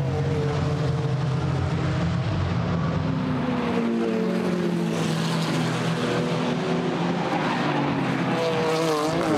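GT4 race cars, including a Mercedes, lapping Brands Hatch toward the right-hand Hawthorn bend, engines roaring loudly and continuously with rising and falling pitch as several cars pass close by, one after another.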